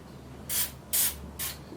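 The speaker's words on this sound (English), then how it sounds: "With these, you only want to use one spray, not four like me, because they're really potent and strong." Bath & Body Works room spray hissing out in three short, loud bursts close by, evenly spaced with brief pauses between, and no talking.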